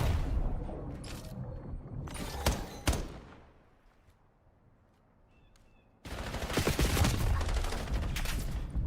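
Rapid gunfire in a competitive video game match, including pistol shots, as loud bursts of repeated cracks that stop for a quiet stretch and then return as dense sustained fire.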